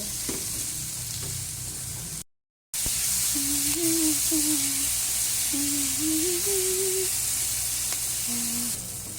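Tomato, onion and garlic sizzle steadily in a pan, a loud continuous broadband fry with a brief dropout, while a voice hums a soft tune over it.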